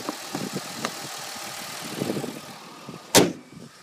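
A 2009 Jeep Liberty Limited's Chrysler 3.7 liter V6 with a K&N cold air intake idles with a steady low hum, close by, and a single sharp clack cuts in near the end.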